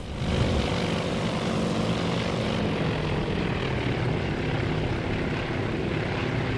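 Propeller-driven World War II carrier planes droning overhead in the naval strategy game Task Force Admiral, a dense, continuous engine roar with no voices.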